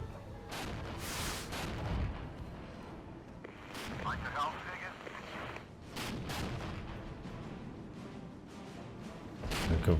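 Gvozdika self-propelled artillery fires during a Regiments strategy battle, its heavy booms thumping repeatedly through a dense, continuous din of combat noise, with a voice talking over parts of it.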